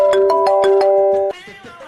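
An incoming-call phone ringtone plays loud and close, a bright repeating melodic pattern that cuts off abruptly, leaving a quieter tail of room sound.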